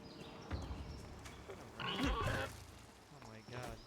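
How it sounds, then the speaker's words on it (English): Pigs in the video game Nightingale grunt and oink in a short burst of snorting amid rain-like background noise, with a person talking over the game sound. "Freaking pigs?"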